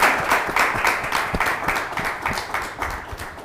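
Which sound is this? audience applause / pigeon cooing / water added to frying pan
audience applause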